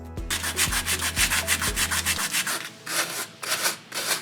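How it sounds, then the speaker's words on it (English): Sandpaper rubs back and forth across a wooden tabletop in steady rhythmic strokes, close and fairly loud, with a low thumping beat under the first half. "I want to sand the tabletop surface using special sandpaper"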